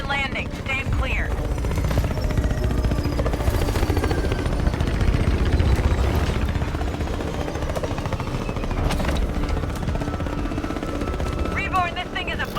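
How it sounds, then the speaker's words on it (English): Extraction aircraft touching down in the shooter game Exoborne: a heavy rotor roar fills the scene while bursts of gunfire crackle around it and a voice speaks over the noise. "Extraction ETA, 20 seconds. Extraction landing. Stand clear."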